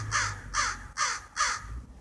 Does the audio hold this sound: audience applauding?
no